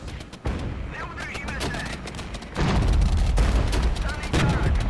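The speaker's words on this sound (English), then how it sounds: "Oh, that artillery is pain." Artillery fire in Regiments, a low booming barrage under scattered crackling musket shots that grows heavier about halfway through, with faint speech now and then.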